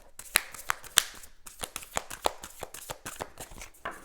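Tarot cards being shuffled by hand for a closing draw, a close series of crisp riffling slaps and flutters in quick irregular bursts, loud and without voices.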